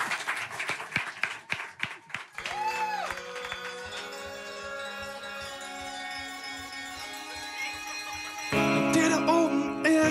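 Clapping from a TV studio audience on a late-night music talk show, a brief burst of sharp claps that soon gives way to band music carrying on to the end.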